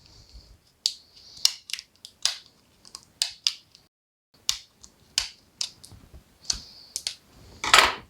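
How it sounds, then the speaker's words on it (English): Scissors snip through hard plastic while a Dollar Tree Mardi Gras centerpiece is being crafted, giving a run of sharp, crisp close-up cuts in an irregular rhythm with brief pauses between them and a louder crunch at the end. "All right, so I'm going to cut the center out again."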